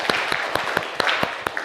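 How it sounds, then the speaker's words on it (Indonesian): A small group claps in a steady rhythmic beat at a teacher-training class session, each clap crisp and close, evenly spaced about four per second, with a faint murmur of voices behind. "Tepuk tangan untuk kita semua."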